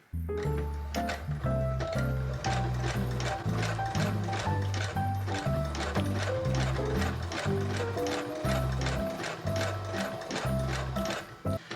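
A sewing machine runs steadily through double layers of fleece blanket, tacking the edges in place with a loud, rhythmic mechanical stitching chatter that continues with brief pauses and no talk.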